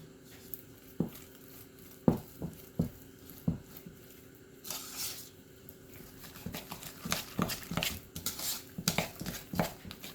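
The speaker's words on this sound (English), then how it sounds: "I can mix this a little bit better." Batter for cookie brownie bars being stirred in a bowl, a stiff mix giving scattered clinks and scrapes of the utensil against the bowl, with sharper knocks early on and denser scraping toward the end.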